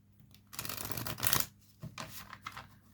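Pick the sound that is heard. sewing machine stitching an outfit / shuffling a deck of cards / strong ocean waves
shuffling a deck of cards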